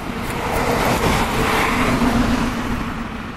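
Car engine running and revving as the vehicle is moved along a street curb, a steady, fairly loud motor hum with a slight surge, heard alone without talk.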